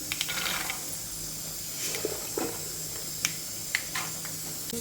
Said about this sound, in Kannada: ಈಗ ಸಾಸಿವೆ ಚುಟು ಪುಟ್ಟು ಅನ್ಲಿಗತ್ತಾವು